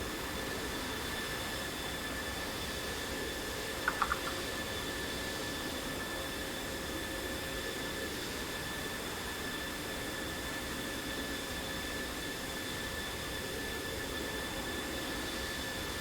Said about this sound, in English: You started your engine, right?